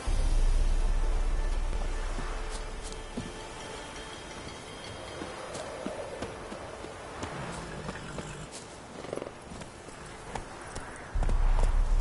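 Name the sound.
horse Roach galloping in video game The Witcher 3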